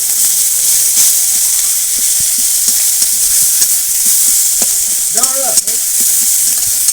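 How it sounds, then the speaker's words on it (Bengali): Hilsa fish heads fry with chopped onion and torn green chillies while a spatula breaks the heads apart: a loud, steady sizzle broken by scattered spatula clicks and a short scraping burst near the end. "এবার সব কিছু একসঙ্গেই ভেজে নেবো। মাথাগুলো ভেঙে দেবো খুন্তি দিয়ে।"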